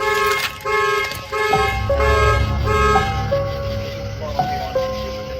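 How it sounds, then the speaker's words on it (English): A car alarm blares nearby with loud repeating tones, several short blasts followed by a sustained warbling pattern, with no one speaking. "Was that you that just turned on the alarm?"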